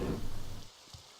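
Steady rain falls in the Morrowind video game, a soft hissing wash that fades after a moment, leaving a faint patter and a few light drops.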